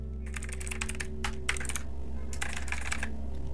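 Computer keyboard typing a username and password, a few quick bursts of soft key clicks with short pauses between them, quiet and close.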